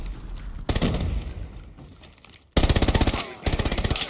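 A Sten submachine gun in COD Mobile fires two loud, close, rapid bursts of evenly spaced shots, separated by a quieter stretch of background game noise.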